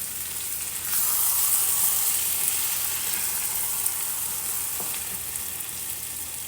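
Burgers and onions frying in a pan for Salisbury steak give a steady, close sizzle that grows louder about a second in and holds, with faint stirring clicks.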